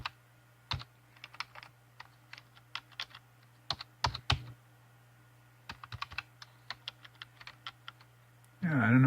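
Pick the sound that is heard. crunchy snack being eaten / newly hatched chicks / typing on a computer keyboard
typing on a computer keyboard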